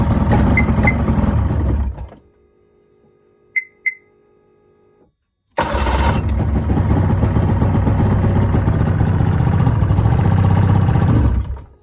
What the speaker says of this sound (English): Now I'm gonna fire the sled up.